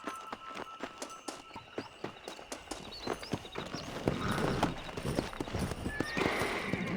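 Horse hooves clip-clop steadily as a rider moves along in the Western game Red Dead Redemption, with an occasional whinny, the pace and loudness building toward a faster run near the end.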